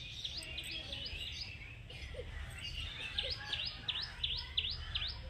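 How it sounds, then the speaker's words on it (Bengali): Birds chirp in a forest with quick repeated tweets at a moderate distance, the calls clustering toward the end over faint, steady background noise. "পাখির আওয়াজগুলো শুনতে ভালোই লাগছে"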